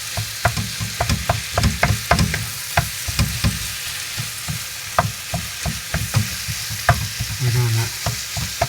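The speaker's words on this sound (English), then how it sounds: "And now we stir it in." Beef and rice being stirred in a sizzling wok for Spanish rice, with rhythmic scraping strokes of the utensil over steady frying, and a brief spoken remark partway through.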